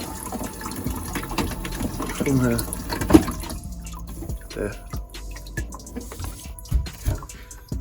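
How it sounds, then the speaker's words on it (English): Water trickling and running into a toilet pan from a faulty dual flush cistern that keeps running, steady and fairly quiet beneath someone talking nearby, with occasional clunks. "Why the toilet keeps on running and letting that water by into the toilet pan"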